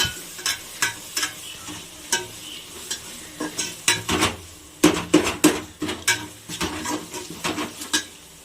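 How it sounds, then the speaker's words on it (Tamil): Mint and coriander leaves are sautéed in a pan for biryani, with a spoon scraping and clinking against the metal in steady irregular strokes over a light sizzle, close and fairly loud. "இப்போ நெக்ஸ்ட் புதினா கொத்தமல்லி போட்டுட்டு கொஞ்சம் வதக்கிக்கலாம்."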